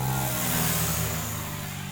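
DEVIL 420 RC helicopter engine at idle, a steady buzzing whine that holds even and close for about two seconds with no voices.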